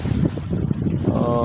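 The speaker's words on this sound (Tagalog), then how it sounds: "Mayroong mahangin pa rin siya, pero hindi na ganoon kalakas guys." Wind at sea buffets a microphone aboard a small fishing boat, a gusty, low rumbling roar that swells and dips without pause, with a faint tonal hum near the end.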